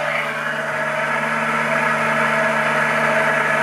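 A DC machine run as a motor under a 0.06 newton-metre load torque in a lab test, drawing 2.5 amperes at about 4,600 rpm, gives a loud, steady tonal hum and whine that holds constant throughout.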